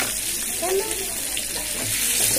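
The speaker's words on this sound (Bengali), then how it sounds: "ভেজে নিই, দুটো দুটো করে ভাজি।" Fish sizzling in hot oil in a wok, fried two pieces at a time, as a steady crackling hiss that holds through the whole short stretch, close and fairly loud.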